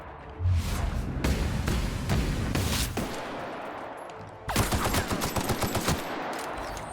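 Video game gunfire in The Outer Worlds, with a few loud shots followed by a rapid automatic burst, all close and punchy over steady game ambience.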